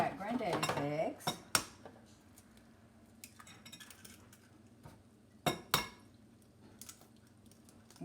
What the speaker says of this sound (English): I'm going to go ahead and crack Granddaddy's eggs.